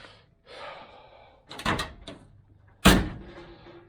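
Rear door of a Lincoln Green Range Rover during bodywork repair, with a softer thud followed by a loud, solid close near the end, heard up close with no talk.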